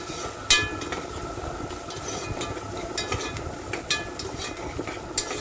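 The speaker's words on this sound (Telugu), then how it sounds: "పచ్చిమిరపకాయ ఉల్లిపాయ బాగా ఫ్రై అవ్వాలండి." Green chillies and onion fry in oil in a pan for chicken curry, a steady crackling sizzle with occasional sharp pops and a stirring scrape.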